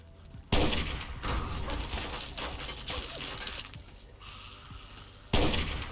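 Gunfire in the video game Fallout 3, with sharp loud blasts opening and closing a stretch of dense, continuous crackling shots and impacts.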